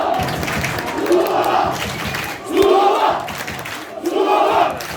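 A football crowd chants the name Suluova at a Merzifonspor versus Suluova Sebatspor league promotion match, with loud rhythmic bursts of massed voices repeating about every second and a half over steady stadium murmur.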